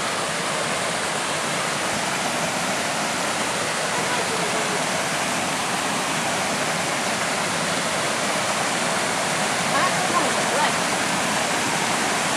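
A West Virginia creek rushes in a constant, dense roar of moving water close by, steady and unbroken throughout with no clear voices over it.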